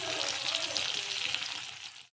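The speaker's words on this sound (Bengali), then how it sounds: "এভাবে কেটে রাখা অন্য সব সবজিগুলোকেও এক এক করে ভেজে নিব।" Chopped vegetables for shukto frying in hot oil in a wok, a steady bright hissing sizzle that stays close and even before cutting off abruptly at the end.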